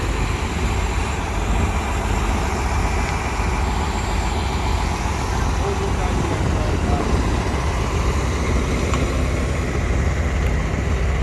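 A huge STGO Category 3 heavy-haul truck with a double-drive rear axle moves a transformer under police escort in Scotland, its loud steady diesel drone and broadband road roar filling the air. Voices are faintly audible.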